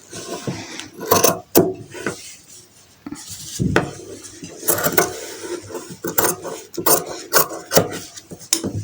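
Scissors cutting fabric for a uniform coat collar, close and uneven, with repeated sharp snips and scraping bursts as the blades close and slide over the cloth and table.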